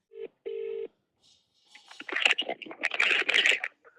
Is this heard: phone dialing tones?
yes